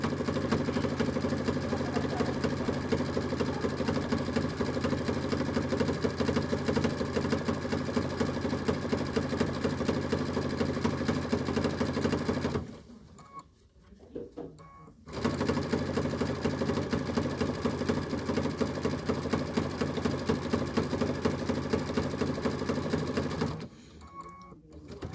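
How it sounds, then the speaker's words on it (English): A sewing machine reverse stitching fabric placemats, a loud, fast, steady mechanical whir that runs continuously for about twelve seconds, pauses briefly, then resumes for several more seconds before stopping again. "I have done the reverse stitching because I want to make sure that we can wash these a lot."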